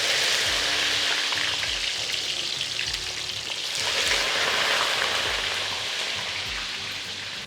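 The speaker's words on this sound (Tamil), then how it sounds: "இப்போ வெண்டைக்காய் நல்லா ஃப்ரை ஆகிட்டுருக்கு." Fresh okra fries in hot oil, a dense, even crackling sizzle with a soft bubbling undertone that swells slightly midway and carries on close and steady, with no one talking.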